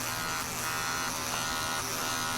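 An electric shaver buzzes steadily and loudly up close throughout, a continuous whirring hum with no pauses.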